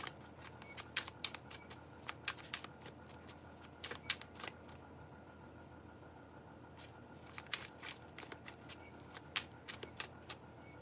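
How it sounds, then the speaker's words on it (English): Tarot cards are shuffled in quiet bursts of crisp riffling and snapping, with pauses between bursts, close and fairly soft against a low background hum. "Every time I shuffle the cards"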